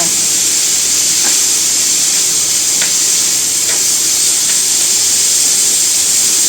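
Potimaron squash and lardons sizzle loudly and continuously in a hot frying pan, a dense, close hiss with a few faint stirring clicks and no talking.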